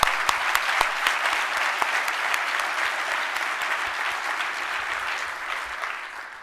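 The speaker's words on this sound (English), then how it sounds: "Let's give them a round of applause" Sustained applause from an audience at a charity donor event, many hands clapping evenly and fairly close for several seconds before starting to fade at the end.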